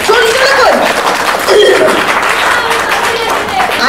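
A seated audience at an intimate music baithaki applauds during a garlanding, a loud continuous patter of clapping with a sustained melodic tone gliding over it.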